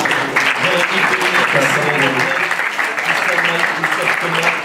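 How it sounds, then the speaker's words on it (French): An audience at a digital-industry awards ceremony applauds the jury, with loud, dense, sustained clapping from a large room throughout, plus a murmur of voices mixed in. "Vous pouvez applaudir ce jury"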